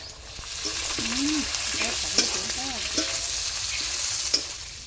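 Whole cumin, dried red chillies, whole garam masala and bay leaves fry with garlic and onion in a kadai for chicken biryani, giving a steady close sizzle with stirring scrapes and a few sharp ticks. Some tonal squeaks run over it.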